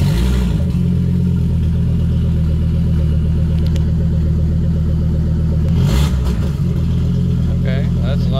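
A Volvo V70R engine starts and revs, a loud close mid-pitched running note with throttle blips swelling over a steady idle.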